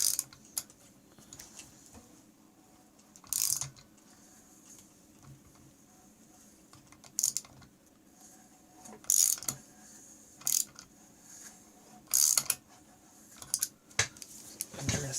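Socket wrench ratchet clicking while installing the clutch on a Polaris Indy snowmobile, heard as several short, sharp bursts of clicks spread irregularly over a quiet, faint workshop background.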